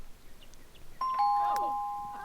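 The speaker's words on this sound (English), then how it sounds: "So, does he automatically ring the doorbell?" A doorbell in The Sims video game rings with a clean two-tone ding-dong chime that rings out and slowly fades over faint background sound.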